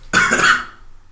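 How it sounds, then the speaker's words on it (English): One sharp, close cough bursts out after a brief quiet moment, then fades away. "Now I'm coughing."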